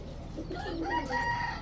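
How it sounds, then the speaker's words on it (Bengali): Bird calls from a female pigeon kept with other pigeons: a run of thin, tonal chirping cries, moderately close and steady against a low background hum. "এটা হচ্ছে চড়ুই পাখি, তাও মাদি কবুতর"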